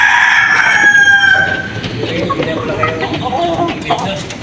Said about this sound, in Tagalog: Ang daming manok dito, boy.